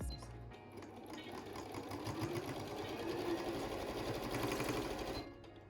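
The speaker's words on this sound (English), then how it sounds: "take it back to the sewing machine and just sew across" A sewing machine runs steadily for several seconds, sewing across fabric, a continuous rapid mechanical whir that stops near the end.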